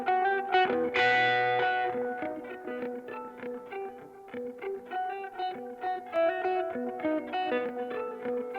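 Electric guitars played through a Pro Tools Mod Delay plugin set up as a stereo widener, a steady strummed and picked part with a brief bright flourish near the start, loud and alone.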